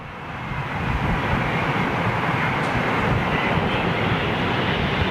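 A jet airliner departing Heathrow for Brussels, a steady, broad engine roar that swells in over the first half-second and then holds loud and constant with no voices.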